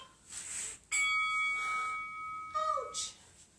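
A workout interval timer bell rings out during a home Tabata session, a clear sustained ding that sounds twice, with quieter background noise around it.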